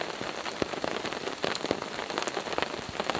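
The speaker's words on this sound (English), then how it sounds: "It's raining outside, it's super foggy, it's windy, and another round of storms is coming in." Rain falls steadily outside during a windy, foggy storm, a dense close patter with scattered sharper drops striking a surface, continuous and moderately soft.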